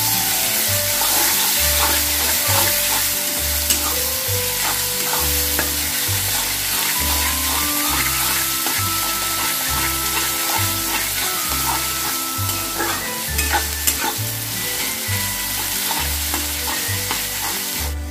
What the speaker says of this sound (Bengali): দিয়ে এটা ফ্রাই করে নিতে হবে যতক্ষণ পর্যন্ত লালচে একটা কালার আসছে, ততক্ষণ পর্যন্ত এটা ফ্রাই করে নিতে হবে।